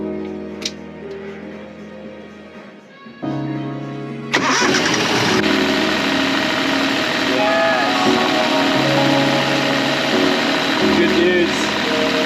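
A sailboat's generator cranks over and catches, then settles into a loud, steady mechanical run up close, with voices talking during the start.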